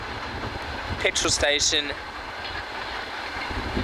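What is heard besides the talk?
train passing on railway tracks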